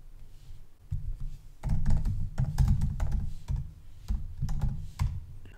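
Go code being typed on a computer keyboard: close, clattering keystrokes in uneven bursts with short pauses, a few heavier thunking presses among quicker taps, and no talk.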